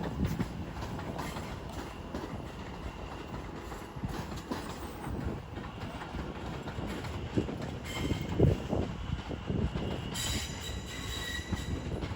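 A train passes through Watford Junction on the West Coast Main Line, its rumble steady and close throughout with wheel squeal and rail clatter rising in places.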